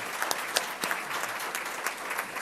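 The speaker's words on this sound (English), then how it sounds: "So let's give them a round of applause for their birthday." A Palm Beach County audience applauds birthday celebrants with a continuous wash of clapping, a few sharper individual claps standing out, no talk over it.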